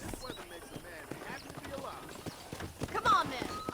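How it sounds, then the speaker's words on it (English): Rhythmic horse hoofbeats clip-clop steadily in Red Dead Redemption under a mix of speech and background game sounds, moderately loud throughout. "let's see if you can still ride a horse"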